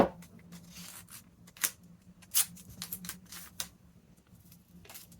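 Tape being laid down on a journal cover, a series of faint, close crackles and sharp little rips and pats at uneven intervals over quiet background.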